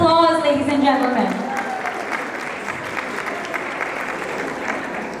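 A crowd at a women's council event applauds after a song, dense clapping building as a voice tails off at the start, then continuing steadily and evenly to the end.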